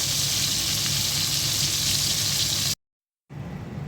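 Constant bubbling sizzle of rohu fish head and pieces frying in oil, steady and close, broken by a brief moment of total silence before the sizzle returns.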